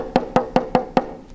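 A talking drum with slack tension struck five times in a steady rhythm, each hit lower and duller in pitch, with short decays.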